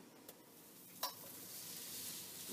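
A buttered Kosher Cuban sandwich sizzles softly on a grill, with a faint steady hiss that grows a little toward the end and a couple of light clicks early on.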